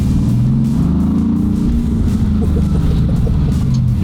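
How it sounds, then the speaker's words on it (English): A 1200hp Mercedes-AMG build rumbles loudly on its first drive through Compton streets, a deep heavy engine drone with rising and falling revs, close and continuous. "it is time to take this AMG for the first drive"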